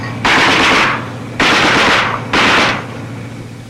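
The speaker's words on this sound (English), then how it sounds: "the APCs turn their big 50s on the heavily mined road ahead, blowing a path through them" Three long bursts of heavy .50 caliber machine gun fire from armored personnel carriers raking a mined road in 1966 Vietnam, loud and close, each burst lasting about a second with brief pauses between.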